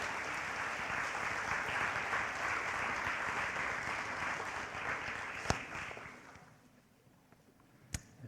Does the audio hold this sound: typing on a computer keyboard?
no